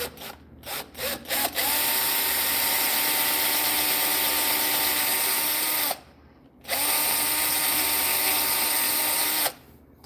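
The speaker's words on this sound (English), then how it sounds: "I'm going to drill a small hole in there." A power drill whirs in a few short bursts, then runs steadily for several seconds, pauses briefly, and whines again in a second long run, drilling a small hole in wood.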